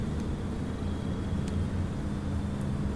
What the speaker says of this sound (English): I'm near a highway.